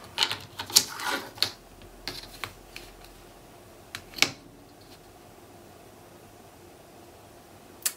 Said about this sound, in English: So now I am going to trim this down